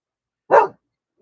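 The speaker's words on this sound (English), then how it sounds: "Stop with that barking, boy." A dog gives one short, sharp bark close by, with silence before and after.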